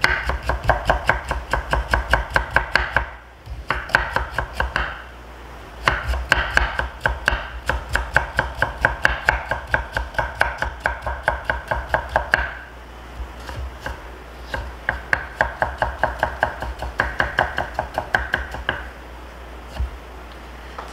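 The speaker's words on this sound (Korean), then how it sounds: "다치지 않게 썰어줍니다. 그 다음에 채 썰고" Knife julienning radish on a cutting board for kimchi, a fast rhythmic run of crisp chopping taps in quick bursts separated by brief pauses, close and clear with no talking.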